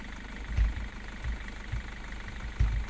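Car engine in the game Street Cleaning Simulator, idling with a low steady hum and several short revving bursts, alone with no talk.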